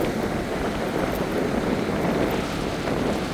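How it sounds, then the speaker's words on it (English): Strong wind on a beach buffets the microphone, a loud, steady roaring rumble with no other sounds. "It's so windy"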